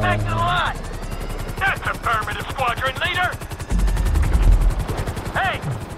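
Gunfire in Grand Theft Auto V, a rapid, steady automatic burst of evenly spaced shots running nearly the whole time, loud and close, with talk over it and a heavier low rumble partway through.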